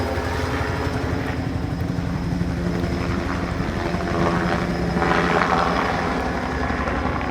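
A helicopter spreading fertilizer over cranberry bogs roars loud and close, its steady rotor throb holding throughout and swelling slightly toward the end.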